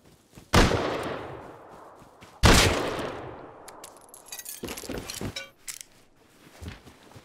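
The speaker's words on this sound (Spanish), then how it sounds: "¿Cuántos tiros le he dado con la puta Python, tío?" Two sharp, loud gunshots from a Python revolver in the game Rust ring out about two seconds apart, each trailing off, followed by quieter metallic clinks and rattles.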